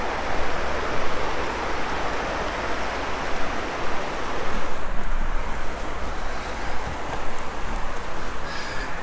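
A river at Biscuit Basin in Yellowstone rushes in a loud, steady broadband roar of flowing water, close and continuous, with a little wind buffeting.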